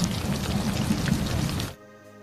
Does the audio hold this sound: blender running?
no